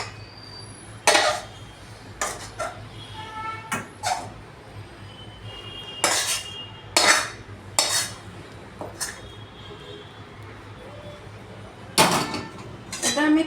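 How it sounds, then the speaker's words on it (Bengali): Cooked beetroot dhoka tipped from a pan onto a plate, with a scattered series of metallic scrapes and clinks of a utensil against cookware, close up, and a voice speaking faintly now and then. "তো এটা আমি একটা থালায় ঢেলে নিচ্ছি।"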